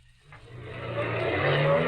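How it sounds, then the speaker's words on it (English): A car whips past on a road at night in an old radio drama, its engine noise swelling from quiet into a loud, sustained roar as it closes in and rushes by. "Maxton's car whipped by."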